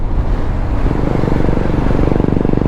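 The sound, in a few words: Royal Enfield motorcycle approaching in traffic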